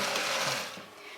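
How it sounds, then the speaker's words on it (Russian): Pea and bean sauce for an eggless lenten mayonnaise, with mustard and lemon juice, is whisked in a quick, brief burst of close, scratchy churning that fades slightly toward the end. "Взбиваем немножко."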